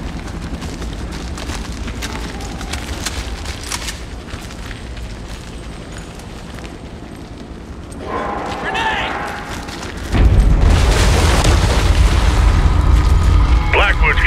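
A grenade detonates in the shooter game Warface with a sudden, heavy boom that bursts over a rumbling background of gameplay noise, followed by a lingering roar while a player talks.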